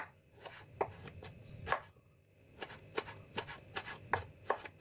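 A knife slices small tomatoes on a cutting board, producing a series of crisp, irregular chops and taps close by, with short pauses between strokes and no talking.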